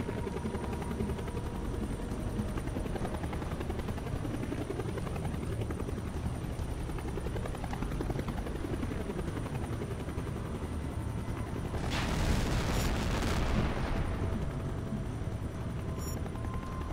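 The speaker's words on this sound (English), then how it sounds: "we got enemy helos closing in" Enemy helicopters approaching in the video game H.A.W.X. 2: a steady, loud rotor drone fills the scene throughout, with a brief swell of rushing noise near the end.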